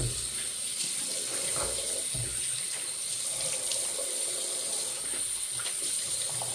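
Tap water runs steadily into a sink while a slant safety razor is rinsed, a close, continuous rushing splash with faint clinks.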